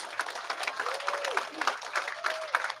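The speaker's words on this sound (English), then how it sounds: "Give yourselves a round of applause." Elementary school children visiting the House chamber applaud themselves, a moderate patter of clapping with a few voices and brief whistle-like calls mixed in, fairly soft and even throughout.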